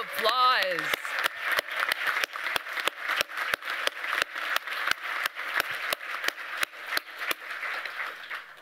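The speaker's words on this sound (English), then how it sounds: "Give yourself a round of applause." Sparse clapping from a college fall convocation audience, individual claps standing out in an uneven rhythm at moderate distance, with a brief voice-like tone at the start and a light crowd murmur underneath.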